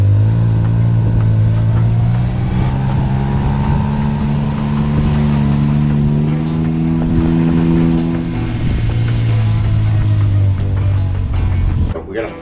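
A UTV snowcross race machine drives into a trailer with its engine running loud and close. The drone holds steady, shifts pitch slightly midway and cuts off abruptly at the end.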